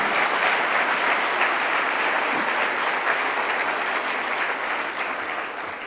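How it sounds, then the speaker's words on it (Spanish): Congregation applause during a church sermon about praise music, dense sustained clapping from a large crowd at strong level, steady for several seconds before beginning to taper off. "Denle un aplauso al Dios del gozo y de la alegría."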